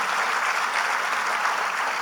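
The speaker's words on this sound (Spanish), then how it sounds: "si le vas a dar el aplauso, déselo como se lo merece." Steady, dense applause from a church congregation during a couple's testimony, filling the whole moment at even loudness with no voices rising above it.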